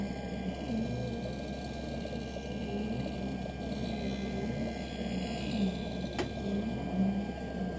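A lens edger grinds a prescription Transition lens for Ray-Ban 5121 Wayfarers under water spray, giving a steady, continuous whirring grind with a wet hiss that runs the whole time, close by and fairly loud, with a single brief click near the end.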